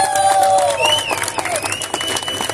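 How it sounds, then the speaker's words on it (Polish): Audience applause and crowd noise at a rally ceremony in Nysa, loud and continuous, with high tonal whistles or horns rising over the clapping. "należą się wielkie brawa i jakiś hałas bardzo"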